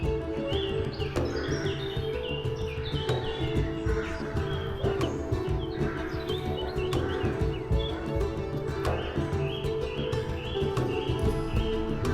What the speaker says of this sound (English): With an extraordinary number of birds.